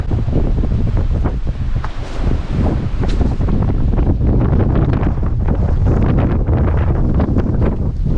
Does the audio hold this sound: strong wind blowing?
yes